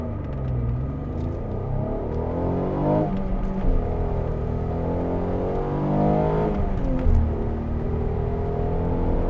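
An Alfa Romeo 147 GTA engine revs hard from a standstill and climbs through the gears, pitch rising, dropping at each shift, then rising again, loud and close.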